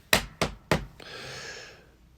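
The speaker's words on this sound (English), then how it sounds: "Let me find some wood to knock on." Three sharp knocks on wood in quick succession, loud and close, followed by a soft, sustained rustle that fades away.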